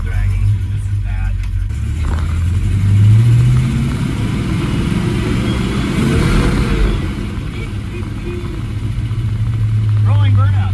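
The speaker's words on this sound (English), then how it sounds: "Rolling burnouts." A supercharged 1961 Studebaker Hawk with dragging brakes roars through a rolling burnout, its engine note loud and sustained with rising and falling revs, while people talk over it.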